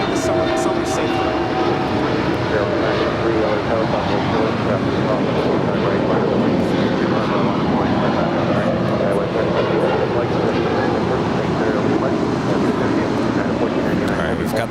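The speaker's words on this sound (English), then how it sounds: "1499 coming in from Newark Liberty. It's a 787-10 Dreamliner." United Airlines Boeing 787-10 Dreamliner arriving at LAX from Newark, a steady, loud jet roar sustained throughout with broadband rumble, people talking over it.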